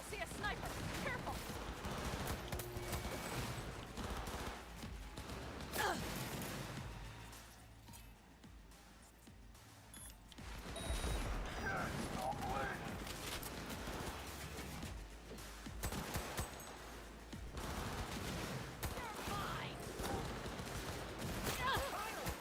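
Gunfire in Cyberpunk 2077: dense, sustained bursts of shots and impacts with a short lull midway, under intermittent voice commentary.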